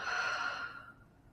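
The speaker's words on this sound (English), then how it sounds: "Take a deep breath in. Open mouth, exhale." A slow open-mouth exhale during a restorative yoga breathing exercise, a soft breathy whoosh that fades out over about a second, close and alone with no talk.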